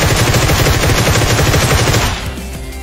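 Automatic gunfire sweeps enemies in a mobile battle royale shooter, a loud, rapid, rhythmic stream of shots that fires continuously for about two seconds before cutting off.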